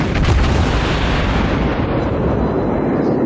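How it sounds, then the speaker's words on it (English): Secondary guns of a Saint Louis class cruiser firing in World of Warships, a loud booming blast that rolls into a sustained heavy rumble of gunfire. "that's a secondary that's firing him now"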